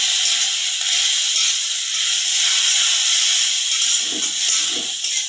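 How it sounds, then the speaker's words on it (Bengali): Garlic frying in hot oil with salt and turmeric, a steady close sizzle and hiss throughout, with a few soft stirring scrapes near the end. "এখন এটাকে ভালো করে ভেজে দেবো।"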